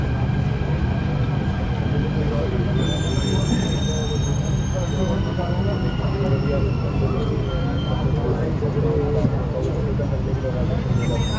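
Delhi Metro train at a platform with a steady, loud rumble and high squealing wheel tones running throughout, close by, with no pauses.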